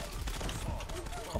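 Video game gunfire, a quick burst of rapid shots in a short, dense fusillade, heard fairly faint under the game's background noise.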